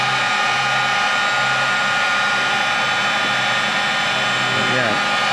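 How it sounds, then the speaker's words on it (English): Heat gun blowing on its low setting near a car's A/C temperature sensor, a steady loud whirring airflow hum running throughout with a voice briefly talking over it. "Heat gun. I'm going to put it on low because I don't want to melt anything or break anything"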